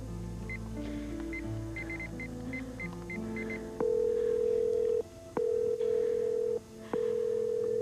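A telephone dials a cell phone with a rapid run of close touch-tone keypad beeps, then longer steady tones that repeat with short gaps. No one speaks.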